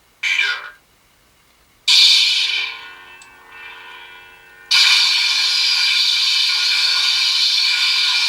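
A toy lightsaber cycles through its sound effects: short bursts of hissing hum, a quieter buzzing stretch, then a loud sustained crackling hiss, all close and without speech.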